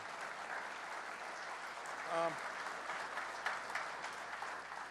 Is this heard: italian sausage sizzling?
no